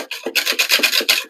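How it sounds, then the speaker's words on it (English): Five eggs are whisked briskly in a jug for a pasta banana bake, making a quick run of close, scratchy rhythmic strokes over about a second, with no talk. "Give it a good whisk."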